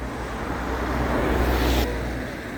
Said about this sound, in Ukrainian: ви бачите, багато машин